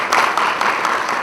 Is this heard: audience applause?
yes